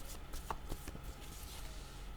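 Tarot-style cards being shuffled and drawn for a reading, soft papery riffles and light slaps, faint and close with no talking.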